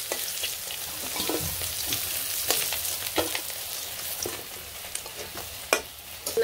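Fish fries in hot oil in a home kitchen, a constant crackling sizzle broken by sharper pops and the scrape of stirring, with no talk over it.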